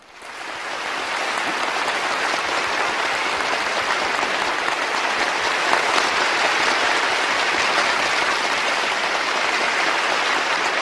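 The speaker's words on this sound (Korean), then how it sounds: "오늘 준결승 경연에서 입선한 덕무들에게 다시 한번 열렬한 축하의 박수를" A large audience at the semifinal of a national workers' song contest gives sustained, loud, dense applause that swells in within the first second and holds steady throughout.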